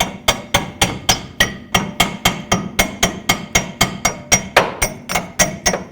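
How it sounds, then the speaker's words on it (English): Steady, evenly spaced hammer blows on metal, about three per second, ringing sharply and close with no talking, as a rear upper control arm is hammered into place on a 2009-2010 Dodge Ram 1500. "You can help guide it in with a hammer or a rubber mallet"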